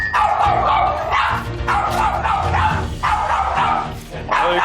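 A small dog barks fiercely and continuously at an outsider, loud, close and repeated in rapid bursts, with brief whimpering yips between barks and people talking underneath.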